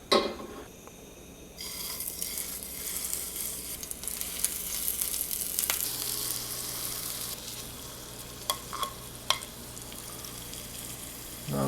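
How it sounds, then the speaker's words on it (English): Lumpia filling stir-fried in oil in a pan, a close steady sizzle with occasional sharp clicks and scrapes of stirring, no talking. "I just put it in the pan and stir fry with the oil."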